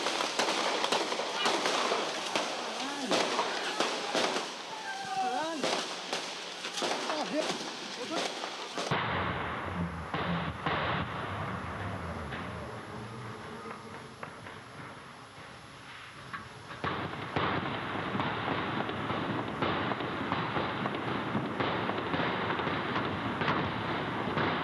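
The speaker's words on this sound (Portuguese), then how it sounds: "Olha, Serginho, os policiais não param de atirar" Police gunfire crackles in rapid, repeated bursts of many shots, sounding somewhat distant and echoing, while a voice speaks over it throughout.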